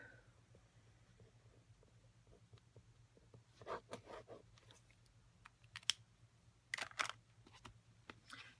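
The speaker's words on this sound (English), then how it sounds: "So I'm going to write that down because I don't want to forget." A pen scratches out a short handwritten note during card-making crafting, with quiet intermittent strokes in a few brief bursts against a low steady background hum.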